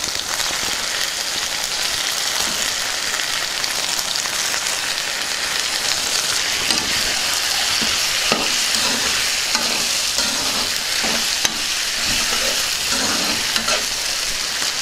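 Chicken stir-fried in a pan for a traditional Telugu-style chicken egg fry gives a loud, dense, rain-like sizzle, with repeated scraping and tapping of the stirring spoon throughout.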